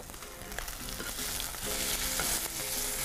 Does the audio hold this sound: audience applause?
no